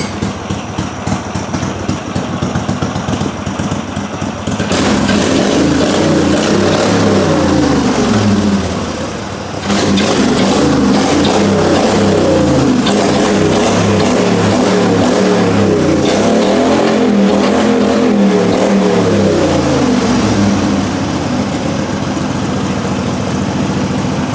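A Briggs & Stratton Vanguard V-twin engine in a Super Suburban 15 tractor runs loud and close for the whole stretch, idling roughly with a few surges as the throttle rises and falls, governor removed.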